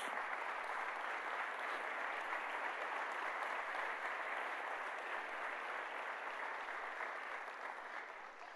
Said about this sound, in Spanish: sí, dale un fuerte aplauso a Jesús.